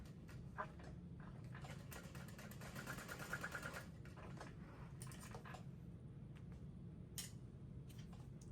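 A sewing machine drones steadily while top stitching a handbag, its motor whirring in a continuous, even run with faint mechanical ticking.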